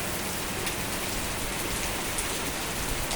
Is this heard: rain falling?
yes